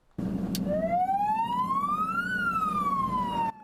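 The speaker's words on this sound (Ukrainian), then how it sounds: "Під гучну сирену і на великих швидкостях пожежне авто долає затори на одеських вулицях" A loud fire engine siren wails, its pitch sweeping up and then falling back, over a steady rumble of traffic jams on Odesa streets.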